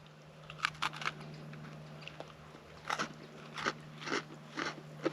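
Someone bites and chews a crunchy biscuit outdoors by a memorial in the English countryside, with several crisp crunches in irregular clusters over a steady low hum.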